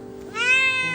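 A sick, dirty stray cat, found curled up in the cold on a city street at midnight, gives a single rising meow. The cry is close and clear, with no talk over it.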